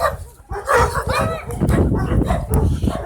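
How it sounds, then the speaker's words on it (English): Several dogs barking in a loud, overlapping jumble close by, with yips and a brief whimper mixed in. "If I can do that during the day, freaking dogs."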